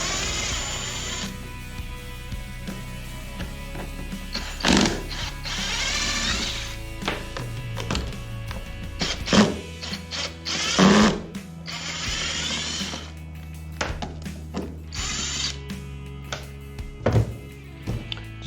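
Power tool driving a 1/4 inch socket to remove hardware from an 81-93 Dodge Ramcharger heater box, in several short whirring bursts separated by clunks and handling noise, recorded close up.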